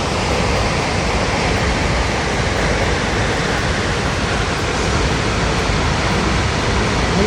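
A steady, loud roar of falling water rushes on without pause, a waterfall in Norway heard up close.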